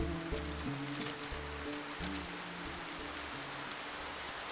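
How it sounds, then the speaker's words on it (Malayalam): Heavy rain pours in a steady, broad hiss, with a melodic music score playing clearly over it, in a Malayalam film scene. "എന്തൊരു മഴ!"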